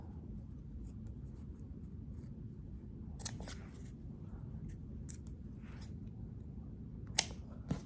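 Quiet snips of scissors cutting fabric while making a stuffed pin cushion, a few sharp close clicks spread over a soft background hum, no talking.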